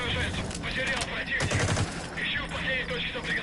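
Rapid gunfire crackles in Metal Gear Solid V, with dense bursts of shots and clattering impacts heard at moderate loudness, mixed with game sounds and voices.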